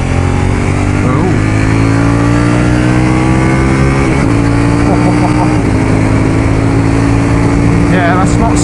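A KTM 790 Duke motorcycle accelerates hard on a dual carriageway. The engine is loud and close, rising in pitch through several gear changes, and wind rushes past under a rider's talk.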